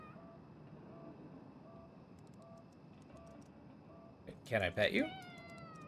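A house cat in the horror game Conarium gives two or three close, loud meows near the end, after quiet ambience and a faint voice asking to pet it.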